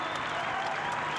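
Crowd applauding steadily around the main ring of the Great Yorkshire Show, a dense, continuous wash of clapping from many people with no clear break.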